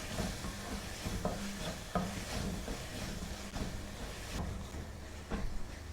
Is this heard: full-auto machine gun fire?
no